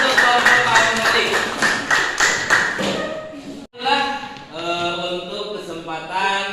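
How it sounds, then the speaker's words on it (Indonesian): A classroom of students claps for a presenting group during a teaching practice lesson, a dense run of hand claps close by that pauses briefly and then resumes. "tepuk tangan untuk kelompok Al-Malik"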